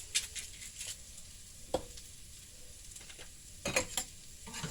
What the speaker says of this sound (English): Let those fry up. Try to give them a little brown to them, a little crispy.